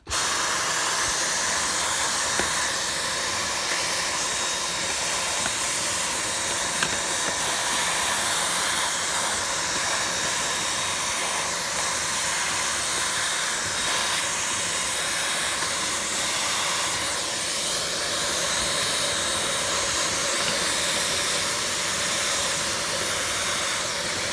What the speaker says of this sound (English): I've got my Hoover here, so I'm gonna just sick all this up